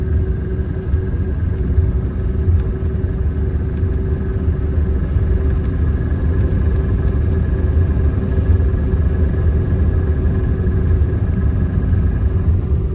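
An MCI bus engine drones steadily at close range as its fan clutch kicks on, a constant loud rumble with a faint sustained whine above it.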